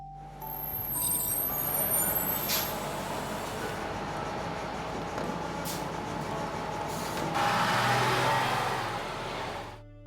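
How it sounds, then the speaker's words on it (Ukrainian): A bus pulls in and halts at a stop, heavy engine rumble and road noise swelling and holding, with a brief brake hiss and a brighter surge near the end as it settles, close and fairly loud with no voices. "Автобус зупиняється на автобусній зупинці."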